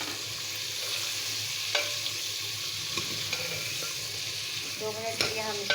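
Two tomatoes, added to onions for a mutton curry, fry in a pan with a steady sizzling hiss throughout, broken by occasional soft scrapes and taps of a spoon stirring, close and even in level.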